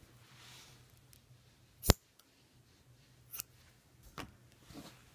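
Scissors snip through yarn while crocheting a faux fur trim: one sharp, close cut followed by a few quieter snips and handling noises in a quiet room.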